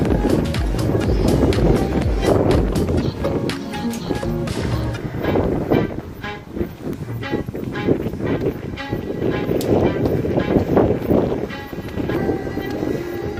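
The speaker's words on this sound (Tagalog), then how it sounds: "Lakas ng hangin." Strong, steady wind roars and buffets the microphone throughout, with a low rumble and rattling underneath.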